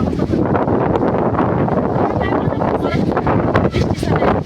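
Strong storm wind batters the microphone during a sudden afternoon rainstorm, a loud, continuous roaring rush with gusty surges throughout and no letup.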